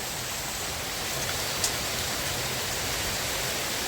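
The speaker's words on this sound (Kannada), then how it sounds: "ಮಳೆ ಜೋರು ಐತಿ" Heavy rain pours down with a dense, even roar that holds steady and loud throughout, with no voices.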